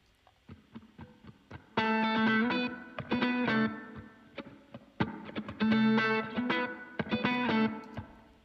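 Funky rhythm guitar through a Slate amp simulator preset plays choppy, syncopated chords in short bursts, with a wash of reverb trailing each stab.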